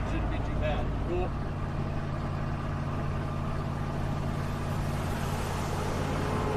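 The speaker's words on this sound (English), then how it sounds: "Feel the wind from the truck." A truck passes close by on a road, a loud continuous engine rumble and rushing drone that holds steady throughout, heard from the roadside.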